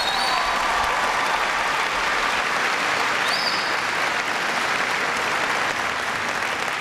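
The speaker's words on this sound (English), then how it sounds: "give him a big round of applause" Service members at a naval station in Rota give a big round of applause, a steady, dense wash of clapping from a large crowd that holds at full strength throughout with no break.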